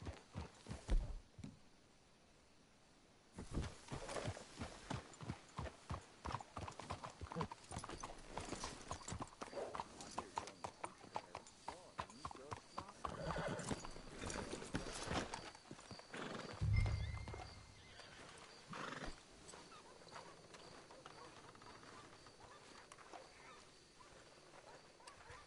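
Horses in the Western video game Red Dead Redemption 2 clip-clop along at a walk, then stop as they are hitched, with a neigh and snort midway and faint background ambience; hoofbeats fairly close and rhythmic, fading near the end.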